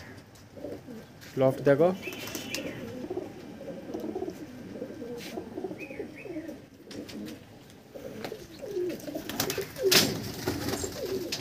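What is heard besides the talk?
Andhra pigeons cooing in breeding loft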